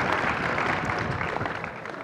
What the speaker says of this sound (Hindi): एक बार आप अपने सीनियर्स के लिए ताली बजा दो बेटा, जोरदार